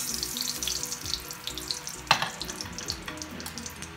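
Potato and eggplant pieces frying together in oil make a soft continuous sizzle, with one sharp clatter of a utensil partway through and lighter scrapes around it.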